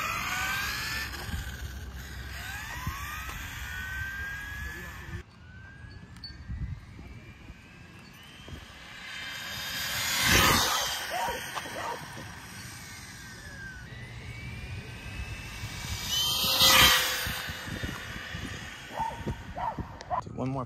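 A supercharged Kyosho 1970 Dodge Charger 1/10-scale RC car on a 5000 mAh 175C battery runs at full throttle: a high electric motor whine sweeps up and down, with two louder close passes, over outdoor background noise and faint voices.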